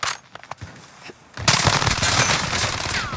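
Sustained bursts of rapid video game gunfire, sparse sharp shots at first and then a dense continuous roar of automatic fire that fills the rest of the moment.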